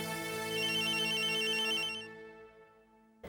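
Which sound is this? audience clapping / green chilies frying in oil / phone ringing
phone ringing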